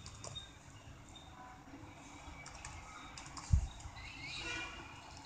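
Computer keyboard keys tapped during an Ubuntu setup, soft scattered clicks at close range under faint room noise, with one sharper knock midway.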